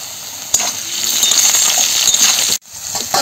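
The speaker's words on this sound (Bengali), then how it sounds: "কেটে রাখা আলুগুলো ভেজে নেব।" Cut potatoes frying in hot oil in a Bengali home kitchen, a steady bright sizzle running throughout with a sharp clink near the start and a brief dip before the frying resumes.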